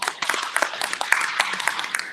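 Audience at an education curriculum presentation breaks into a round of applause, crisp rapid hand claps, close and fairly loud, sustained evenly across the whole moment without talk.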